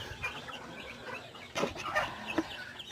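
Chickens cluck softly nearby, with a few short scattered calls and rustling in a quiet outdoor farm setting.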